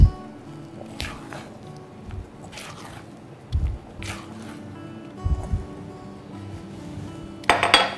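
A spatula gives Victoria sponge batter a final mix in a bowl, with scattered scrapes, soft squishy strokes and occasional clinks and knocks against the bowl's side, close up and intermittent, ending on a brighter clatter.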